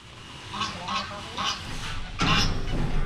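Ducks on a backyard farm give several loud nasal honks and quacks in short bursts, close by, with a harsher call near the end.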